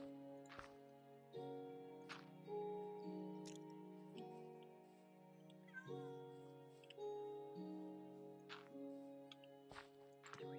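Cat meowing in Minecraft Java 1.14.2, several short, soft mews spread over a quiet, steady tonal background.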